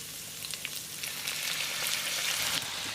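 Pork belly sizzles and crackles steadily in a wok over medium-low heat, stir-fried with ginger, garlic and star anise, a dense frying hiss with occasional scraping stirs.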